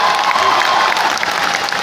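Crowd applause filling an indoor hall, dense steady clapping from a large audience with scattered cheers and voices mixed in throughout.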